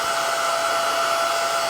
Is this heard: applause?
no